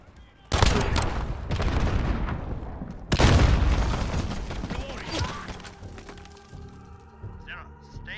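Grenade explosions in Call of Duty: Modern Warfare, two loud booms a few seconds apart, each followed by rumbling debris and decay amid ongoing combat noise and soldiers' voices.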